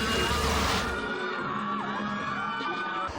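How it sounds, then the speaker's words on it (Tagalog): Fans at a mall concert cheer and scream as Kapuso stars appear, a dense, loud crowd roar with shrill whoops and shrieks rising above it throughout. "Dama ang excitement at kilig sa hiyawan at tilian ng mga tao"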